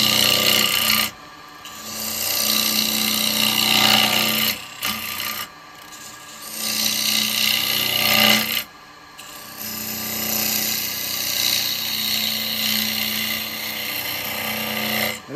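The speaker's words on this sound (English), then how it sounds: "I'm using a 15mm square chisel. I'm just going to get this hollowed out." A 15mm square chisel hollowing out wood, likely on a lathe, a steady loud rasping scrape in long passes broken by a few short pauses.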